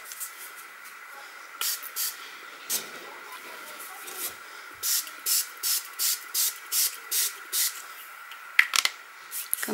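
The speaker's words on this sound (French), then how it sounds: "Donc je reprends mon shimmer spray argenté. Et je vais en mettre donc sur ma montre." Silver shimmer spray misted onto a watch in a craft project, a quiet run of about ten short aerosol bursts, mostly in an even rhythm, followed by a few faint clicks and handling noises.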